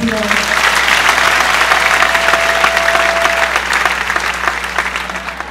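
A church congregation applauds during a French-language worship service, a dense, steady wash of clapping that fills the whole stretch at even loudness with a faint held tone partway through.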